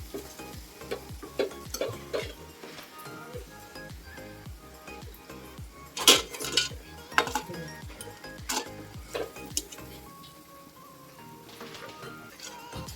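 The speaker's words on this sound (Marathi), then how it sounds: "दुसरी सुद्धा अशी तळून घेते मी" Pakoras frying in oil, a faint bubbling sizzle under frequent stirring and scooping, with a run of rhythmic taps and several sharp metal clinks of a spoon against the pan, close by.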